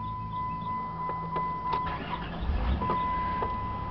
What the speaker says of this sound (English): Starts right up, runs great.